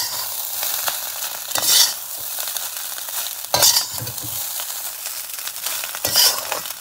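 A spatula stirs burnt-garlic fried rice with spices and egg in a hot pan, giving a steady close sizzle broken by three louder scraping tosses spaced a couple of seconds apart.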